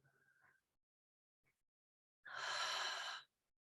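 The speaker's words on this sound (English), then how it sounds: "So we inhale through the nostrils and open mouth exhale" A single open-mouth exhale during a breathing exercise, one breathy rush of air lasting about a second, close and clear after a brief soft voiced sound and near silence.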